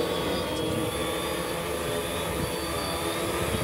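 An RBD drone flies, its motors producing a steady, dense whirring drone with a constant high-pitched whine and no breaks.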